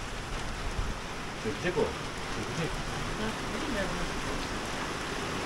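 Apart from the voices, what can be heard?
rain falling outdoors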